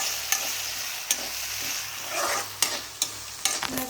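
Chopped tomatoes fry in a pan with a soft continuous sizzle while a utensil stirs them. Several distinct sharp taps and scrapes sound against the pan, close and clear, with no talking.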